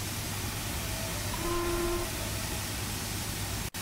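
A train engine pulling a non-stop express service, a steady rumbling rolling drone with a short whistle-like tone partway through, continuous and fairly close.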